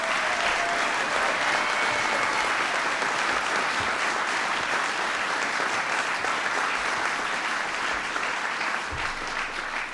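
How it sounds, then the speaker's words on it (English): Dense, sustained applause from a large crowd at a White House bill-signing ceremony for small business legislation, loud and unbroken throughout, honoring the Small Business Administrator. "Please give her a big round of applause."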